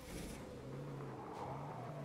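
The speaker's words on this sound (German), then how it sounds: "Ich sehe das Auto. Der fährt einfach immer nur Zombies hoch und runter." Car engine from the video game H1Z1, a vehicle driving back and forth mowing down zombies, with a steady droning hum and rumble that runs continuously at moderate level.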